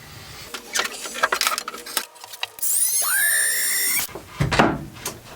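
A power grinder works on a pan, rising into a loud, sustained high-pitched squeal partway through, with short scraping and clattering bursts of contact before and after.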